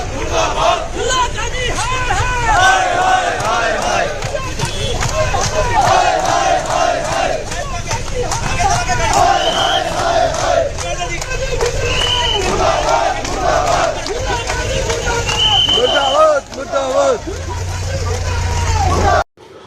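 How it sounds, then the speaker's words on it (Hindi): A large crowd at a street rally in Himachal Pradesh chants slogans in rhythmic unison, loud and continuous, with shouted call-and-response voices and a vehicle rumble underneath. "हिंदूवादी संगठनों के लोग मुसलमानों के खिलाफ आपत्तिजनक नारेबाजी कर रहे हैं"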